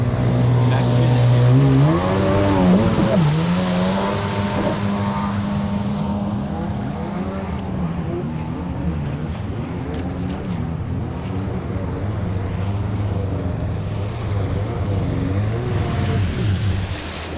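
A Octane jet ski passes during a lap on the water, its engine a loud, steady drone that swells and shifts pitch as it goes by, continuing throughout with wind and water noise.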